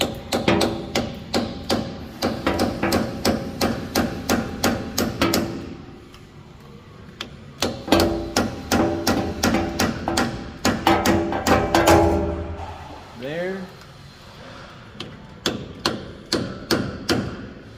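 Rapid metallic slide hammer strikes in bursts during pinion seal replacement on a 2019 Ford F350 Sterling 10.5 axle, steady rhythmic clanking repeated many times with a few brief pauses between runs.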